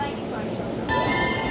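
A train pulls into a station on the way to Tokyo Disneyland, a steady rumble of rail noise with a brighter screech rising near the end as it arrives, and voices murmur faintly underneath.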